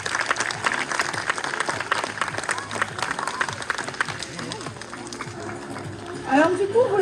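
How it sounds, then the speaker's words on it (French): An audience applauds at a sea lion show in a zoo with sustained clapping from a crowd. Someone talks over it through a loudspeaker, and a short shrill vocal burst comes near the end. "on peut l'applaudir encore une fois."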